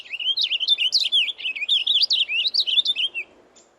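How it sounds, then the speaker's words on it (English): A bird sings a rapid, bubbling warble of high chirps and trills, loud and close, continuous for a few seconds before stopping. "click on the green microphone icon to begin recording the birds nearby"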